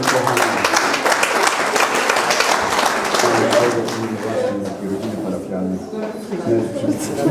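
Applause at a diocesan Marian poetry competition in Poland as a prize is handed to a winner, steady crowd clapping filling the hall with voices talking over it.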